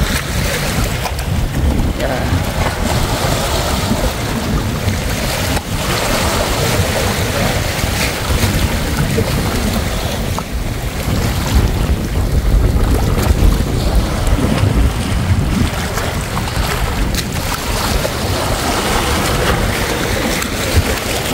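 Sea waves crash on the rocky shore by the Boulevard road in Masbate City, a loud, constant roar and wash under heavy wind buffeting, with a voice talking at times.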